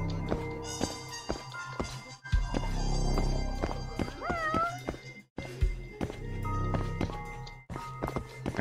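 Meowing from a cat in the video game Judgment, several short cries over background game sounds and soft footsteps, fairly close and moderately loud.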